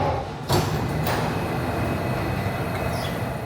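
A Singapore brown line train sits at the Bayshore terminus station, with a sharp clunk of doors or carriage movement followed by a steady, close rumble and hiss of the train at the platform.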